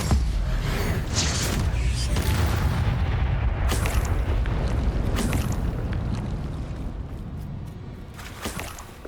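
Spell explosions and blasts in the Hogwarts Legacy video game, a loud dense run of booming hits and crackling bursts over a rumbling low end, fading slightly toward the end.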